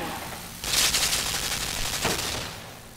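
A turret in Limbo opens fire in a rapid automatic burst, a dense hissing rattle of shots that swells, pulses again briefly, then fades away.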